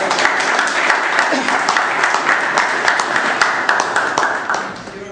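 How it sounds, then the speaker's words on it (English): Lively round of applause from a small meeting audience welcoming volunteers onto a stage, with distinct individual claps close by and some talking mixed in, tapering off near the end. "Big round of applause."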